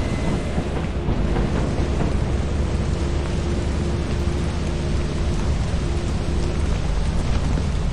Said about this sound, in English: Don't forget it's rainy